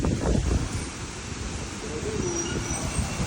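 Strong gusting wind roars outdoors, rumbling against the microphone in a continuous loud buffet with no clear pauses.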